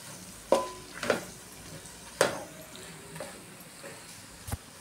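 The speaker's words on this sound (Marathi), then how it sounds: "सर्व मसाले आता आपण एकत्र मिक्स करून घेतोय।" Spices with pulao masala stirred together in a pan while cooking veg pulao, heard as a few separate soft scraping strokes over a faint sizzle at moderate distance, with no talk.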